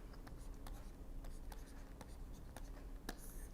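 Chalk or marker writing on a board during a radar engineering lecture, quick faint scratches and taps in short irregular strokes, heard alone against quiet room tone.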